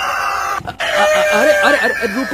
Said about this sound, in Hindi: अचानक सैकड़ों मुर्गियां कमरे से भागने लगी